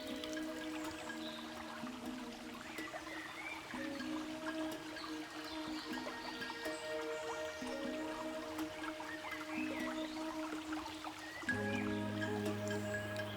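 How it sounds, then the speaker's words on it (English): Water trickling through small streams in Madeira's laurel forest, a soft continuous babble with faint drips under a low sustained musical drone, fairly quiet throughout. "Small trickles swell into streams and rivulets."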